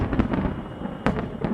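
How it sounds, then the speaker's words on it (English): Thunderclap sound effect in an audio play, a sharp rumbling crack with a second burst about a second later, loud and crackly, standing alone without talk. "There's your thunderclap."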